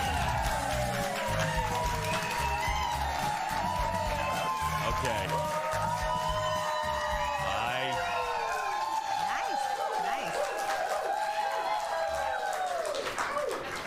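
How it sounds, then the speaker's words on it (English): Studio audience at a daytime talk show clapping and cheering loudly in a continuous wash of applause, with a host's voice speaking briefly over it. "You clapped extra loud because you were told if you did, you'd get a free mug"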